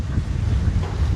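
Wind blowing into a microphone outdoors makes a steady, loud, low rumbling buffet that runs unbroken through the whole moment, with no voices.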